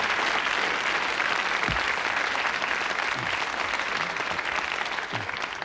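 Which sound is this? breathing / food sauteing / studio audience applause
studio audience applause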